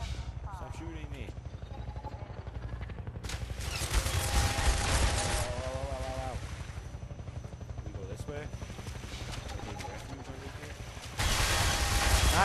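Half-Life 2 gunfire crackles in rapid bursts over a constant droning game soundscape, loudest in a long volley near the middle and again in a sharp burst at the end.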